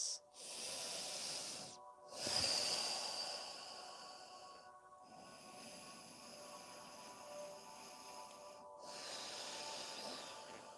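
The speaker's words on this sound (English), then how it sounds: "Take long, deep breaths." During a yoga session, slow, deep breaths are drawn in and out through the nose, soft and close, in several long hissing cycles separated by brief pauses, with no talking.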